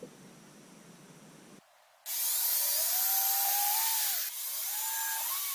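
After a quiet moment, a power drill whirs loudly into a wooden dowel, its pitch wavering as it bores, then briefly dips before continuing.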